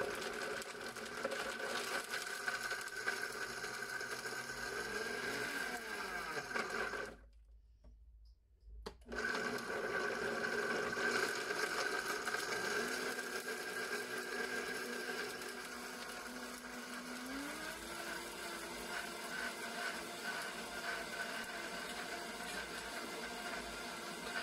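An electric grinder pulverizes dried edible mushrooms, including morels, into powder, with a steady, loud motor whine and buzzing, a brief pause partway through, then a second run whose pitch gradually climbs as the contents break down.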